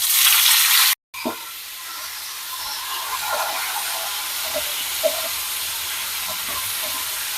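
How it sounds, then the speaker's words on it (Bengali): Chopped tomato hits hot oil with mustard seeds and bay leaves in a pan for a Bengali tomato chutney, giving a steady, close hiss and sizzle after a brief cut, with faint stirring clicks. "এবার আমি টমেটো কুচিটা দিয়ে দেব।"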